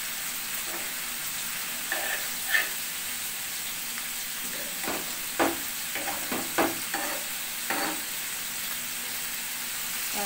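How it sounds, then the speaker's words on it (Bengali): Bitter gourd and potatoes fry in a pan with a steady soft sizzle, broken by several brief scraping stirs of a spatula, close by and without talk. "এখানে আমি উস্তে আলু ভাজিটা বসিয়ে দিয়েছি"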